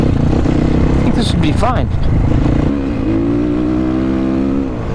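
MOTOPRO 300 motorcycle on its first ride, engine loud and close as it revs up and then settles into a steady drone, with a rider talking over it.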